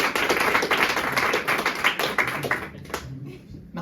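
A theatre audience at a comedy show breaks into brisk applause, the claps loud and crowded at first, then thinning into scattered claps before fading out near the end.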